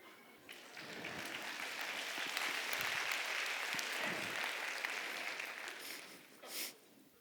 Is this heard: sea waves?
no